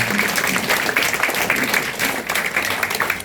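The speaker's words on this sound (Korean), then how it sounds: "큰 박수 부탁드리겠습니다" Guests at an election campaign office opening in Seo-gu, Incheon, applaud warmly: a thick, continuous wash of many hands clapping close by, steady and loud for the whole stretch.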